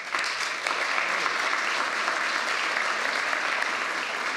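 Steady, dense applause from a crowd at a Keilir graduation ceremony. It runs unbroken for several seconds, full and close, with no voices over it.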